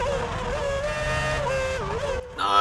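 A Ferrari Formula 1 car in F1 2006 screams at high revs, its shrill engine note wavering through gear changes, then briefly dropping out before rising sharply again near the end, loud and close with no talking.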